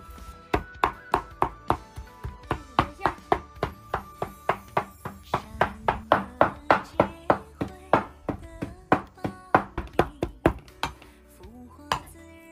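A large chunk of meat is chopped on a board into filling for fennel dumplings, giving a long run of sharp, rhythmic knife strikes, close and loud, with a few brief pauses between bursts.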